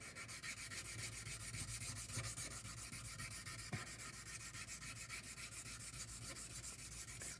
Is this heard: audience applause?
no